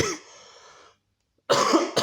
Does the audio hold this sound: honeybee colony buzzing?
no